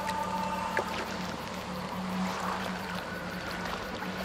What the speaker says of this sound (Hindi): ओके यहाँ पे फ्लो तेज हो रहा है पानी का।